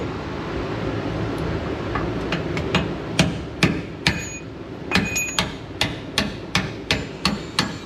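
A hammer drives a new bolt into a truck's leaf spring, starting with light taps and building into a steady series of sharp metallic blows, close and loud, with no talking.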